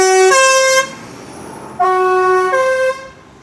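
A departing lorry at a truck festival sounds its air horn in two loud sustained blasts with a short gap between, close and ringing over a faint background hum.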